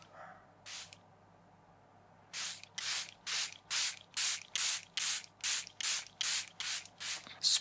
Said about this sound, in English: So we've got the Charlotte Tilbury Airbrush Flawless Setting Spray.